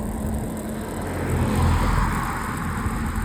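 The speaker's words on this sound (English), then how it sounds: "I got a car coming" Car approaching along a rural road and passing nearby, a steady broadband tire and engine wash swelling to a peak mid-way and easing off, heard against continuous outdoor noise.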